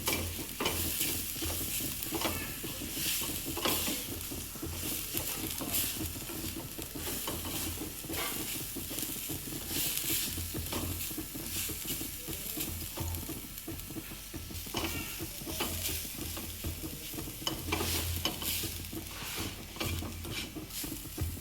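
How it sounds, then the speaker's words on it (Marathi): Grated coconut chutney with salt being dry-roasted and stirred in a pan, continuous close scraping and rustling with a faint crackle, dense and even throughout, no voices. "यावर आता मीठ टाकायचं आणि हे असं खोरत राहायचं"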